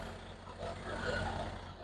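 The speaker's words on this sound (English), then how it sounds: "Excuse the noise too, man. I'm right next to this big truck." A large truck's engine idles close by with a low, steady rumble and slight swells in level.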